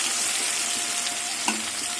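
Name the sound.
shrimp frying and being stirred in a pan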